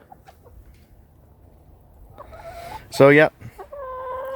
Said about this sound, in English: 3 Rhode Island roosters